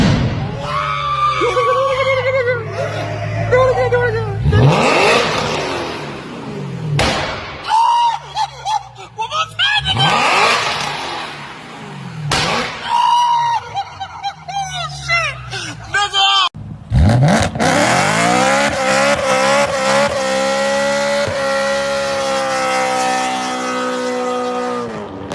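BMW M3 revving hard with exhaust pops, loud repeated engine bursts and sharp bangs, mixed with excited shouting, screaming and laughter from friends nearby.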